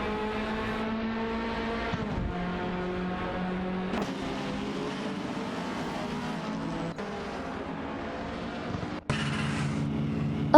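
Race car engines from a racing video game, BMW 2002 and Skoda 130R, droning steadily with shifting pitch as gears change, a sharper rev near the end, no voices.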